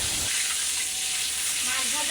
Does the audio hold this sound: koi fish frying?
yes